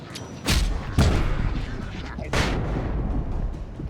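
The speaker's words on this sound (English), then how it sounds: "I think I have a flashbang." Three sharp, loud blasts go off in the Alan Wake video game, at about half a second, one second and just past two seconds, each followed by a rumbling decay over steady background noise.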